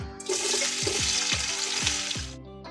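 Potato pieces for biryani deep-frying in hot oil give a loud, continuous sizzle with bubbling crackle, broken by several soft clanks of a utensil stirring the pan before the sound cuts off.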